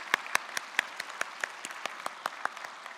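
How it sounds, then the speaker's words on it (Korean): A church congregation claps in blessing during a worship service, a sparse, uneven patter of sharp individual hand claps that thins out and fades within a few seconds. "함께 축복의 박수를 보내겠습니다."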